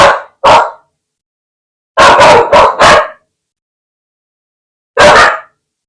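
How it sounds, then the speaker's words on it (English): A ring-modulated piano sounds like a dog barking in short bursts: two single barks, then a quick run of four, and one more after a pause, loud and close. "it sounds like a dog."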